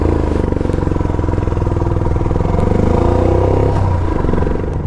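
A 2023 Royal Enfield Himalayan motorcycle with a windscreen accelerates on the road, its engine throbbing and pulsing loudly and steadily throughout amid wind rush, with no speech.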